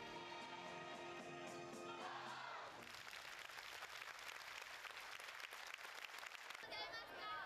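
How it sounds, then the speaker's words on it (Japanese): An audience at a musical stage performance breaks into loud, sustained applause as the final music fades, the dense clapping from a full theater continuing for several seconds. "出演者の心温まる演技に、観客席からは惜しみない拍手が送られていました"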